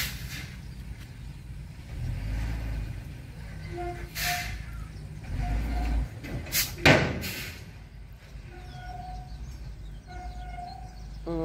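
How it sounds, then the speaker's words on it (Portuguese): A truck rumbles steadily at a property being filled with earth to prevent flooding, its low drone continuous while birds chirp intermittently and a door-like knock sounds partway through. "Elas não estão chegando mais por causa do barulho do caminhão"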